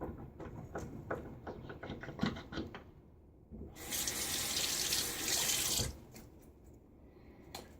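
Tap water runs into a sink while shaving lather is rinsed off, with a close splashing stream that swells strongly for a couple of seconds, preceded and followed by faint clicks and knocks.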